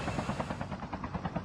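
A helicopter in a battle royale video game chops along with a steady rhythmic rotor pulse of roughly eight beats per second, moderately loud and unbroken, with no speech over it.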